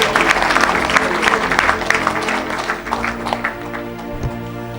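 A church congregation claps and cheers for Jesus in a steady, full-room wash of applause with crowd noise, fading slightly toward the end.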